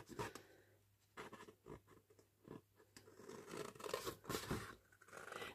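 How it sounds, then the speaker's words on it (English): Scissors trimming around the black border of a Christmas junk journal page, a quiet, close run of snipping and crisp paper rustle that comes in uneven bursts, with no voice. "So just take your scissors."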